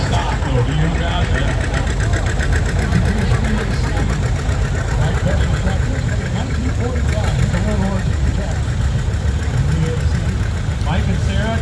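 A John Deere 730 diesel tractor engine runs at a steady, loud idle, its constant low throb and knocking unbroken throughout, with outdoor tractor-show background around it.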